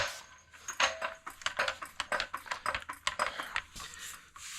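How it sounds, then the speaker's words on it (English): A car jack lifts a Nissan Altima during a front brake pad and rotor job, giving off a quick run of sharp, irregular mechanical clicks and taps, close by and with no talking. "We're going to jack the vehicle up."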